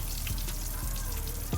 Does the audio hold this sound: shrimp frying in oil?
yes